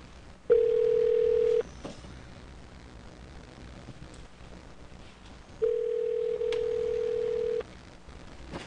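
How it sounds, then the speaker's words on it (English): Telephone dial tone heard as two steady, loud continuous tones, a short burst then a longer one after a quiet gap, with faint background hiss between. "That's the phone that's doing that."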